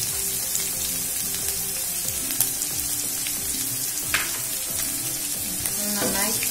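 Shallots and onion for a Kerala-style prawn roast, frying steadily and loudly in a pan with occasional spoon scrapes, under a continuous tonal background sound that could be music.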